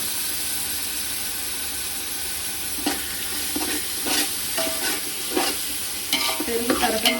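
A spoon works yogurt into a sizzling chicken curry mixture in a pot, with scraping, clinking stirs building over a steady frying hiss in the background.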